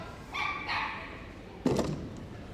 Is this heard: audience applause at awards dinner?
no